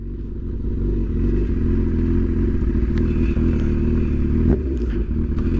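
Motorcycle engine holding a steady, loud mid-pitched drone while riding at around 20 to 25 mph, setting up for a wheelie, with a few light clatters over the continuous roar; no talking.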